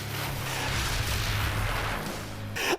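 Fireworks launch in the anime Wind Breaker with a continuous, loud, rumbling roar of booming bursts that ends in a brief sharp crackle.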